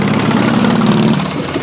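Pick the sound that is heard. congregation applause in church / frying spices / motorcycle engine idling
motorcycle engine idling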